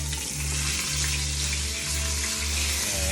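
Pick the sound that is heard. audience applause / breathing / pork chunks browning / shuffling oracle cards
pork chunks browning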